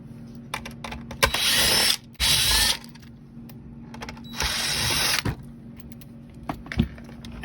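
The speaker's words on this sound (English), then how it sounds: "You want to remove all of the gold screws." Gold screws being removed from the back cover of an 8-inch replacement touchscreen radio display for a Chevrolet Silverado, with bursts of ratcheting, gear-like clicking separated by short pauses, close and fairly loud, with no talking.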